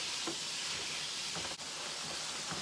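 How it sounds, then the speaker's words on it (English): Beef browning in a hot pan gives a steady, even sizzle and hiss from start to finish, with a few faint clinks of stirring or utensils on top. "And I'm going to brown the beef."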